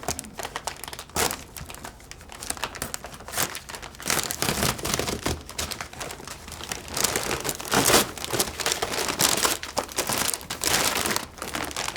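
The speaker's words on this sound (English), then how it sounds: "now we're just gonna get our bag opened up" A bag of charcoal for a Pit Boss grill is torn and opened, giving close, continuous crinkling and rustling with sharp bursts of paper tearing and handling noise.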